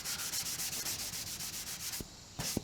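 Abrasive pad scuffs a bare steel body panel on an XT Falcon shell ahead of filler, a fast rhythmic back-and-forth rasp of about a dozen strokes, close and alone, ending with a couple of light knocks.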